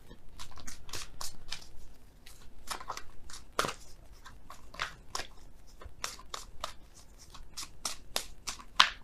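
Oracle cards shuffled by hand during a tarot reading, with a steady run of crisp riffling snaps and flicks repeating close up at an uneven pace.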